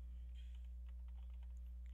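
Keys on a computer keyboard tapped in a quick, irregular run of light clicks while a Python program is written, close and fairly soft over a steady low electrical hum.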